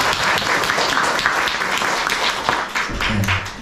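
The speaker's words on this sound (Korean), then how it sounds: "우리 다 같이 또 하나님 앞에 영광의 박수를 돌리겠습니다" A church congregation claps together after worship songs, a full and fairly loud burst of steady applause, with a low rumble of voices near the end.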